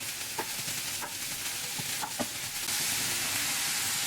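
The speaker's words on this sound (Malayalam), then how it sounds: "ഇനി ഇതിലേക്ക് കട്ട് ചെയ്ത് വെച്ചിരിക്കുന്ന സവോള ചേർത്ത് കൊടുക്കാം." Thinly sliced onions sauté in a hot pan for an egg roast, giving a steady broadband sizzle with occasional clinks of a stirring spoon against the pan.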